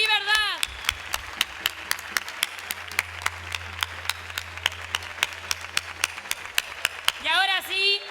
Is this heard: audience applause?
yes